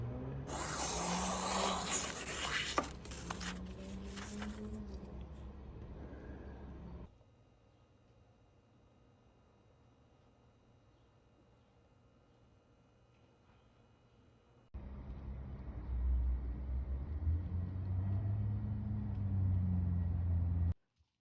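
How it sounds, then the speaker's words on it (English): A Shun kitchen knife edge resting under its own weight on a spinning leather wheel sprayed with diamond compound, deburring with a steady motorised rumble and hiss that starts loud, drops away for several seconds, then returns just as strongly. "I'm just letting the weight of the knife lay on the leather wheel to remove the burr"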